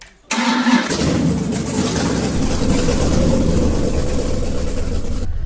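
A 1969 Ford Mustang Boss engine in a Roblox game cranks and catches, then settles into a loud, steady rumbling idle, heard close and alone without talk.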